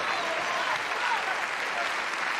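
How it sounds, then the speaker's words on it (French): An audience applauds a performer named Sonia, a dense, even wash of clapping hands that holds steady and fairly loud throughout, with no voices standing out. "Applaudissons la fabuleuse Sonia"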